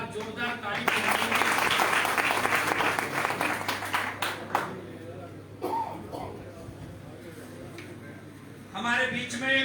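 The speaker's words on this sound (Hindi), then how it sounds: "एक बार जोरदार ताली।" An audience at a Valmiki Jayanti gathering bursts into loud applause that fades after a few seconds, giving way to someone speaking over a microphone with a steady hum, then a fresh round of clapping near the end.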